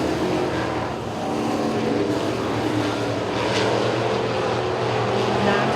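Modified street cars run an 8-lap heat race at Duck River Raceway Park, a steady, loud engine roar filling the air throughout with no break.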